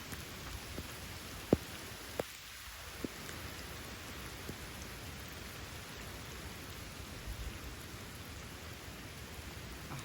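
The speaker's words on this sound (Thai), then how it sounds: "ฝนมันตกค่อนข้างที่จะแรงนะทุกคน" Steady, dense heavy rain pours down continuously on the way into a Thai village, a heavy broadband hiss with a few sharper drops and taps standing out near the start.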